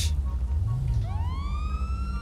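A police car siren in the FiveM mod of GTA V rises and wails steadily from about a second in, loud against constant low game rumble, after a brief noisy burst at the start.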